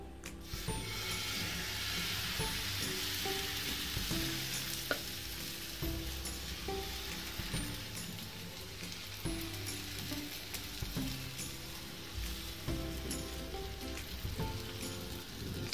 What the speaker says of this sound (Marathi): आता आपण बेसन पोळीचं बॅटर पॅनवरती टाकूयात